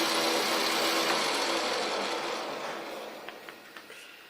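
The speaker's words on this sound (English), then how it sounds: "Now my centre drilling operation is complete" A lathe whirs with a steady high-pitched grind while centre drilling a workpiece held in a 3-jaw chuck, slowly winding down and ending with a few faint clicks.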